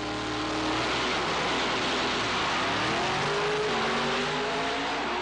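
A Pro Mod drag racing car roars down the track on a loud, sustained engine note with rising harmonics as it accelerates, dense and continuous with no talking.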